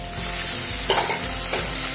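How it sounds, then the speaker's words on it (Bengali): Chopped tomato frying in oil with browned onions for a coriander chicken dish, a steady close sizzle with soft scraping strokes of a spatula stirring the pan, no voices. "এবারে এর মধ্যে টমেটো কুচি দিয়ে দেবো"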